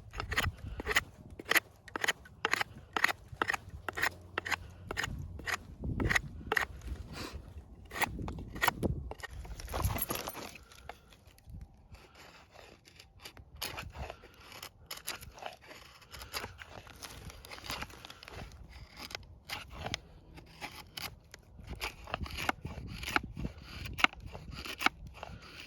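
Tops Moccasin Ranger knife shaving curls from wood, with a long series of crisp, regular close scraping strokes, pausing briefly midway before the rhythmic cutting resumes.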